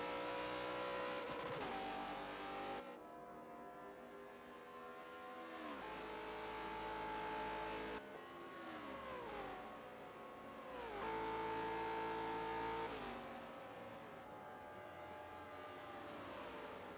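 NASCAR race cars in a racing game accelerating hard out of a hairpin with rear tyres spinning, engines revving and rising in pitch over and over, loud and continuous with several cars passing.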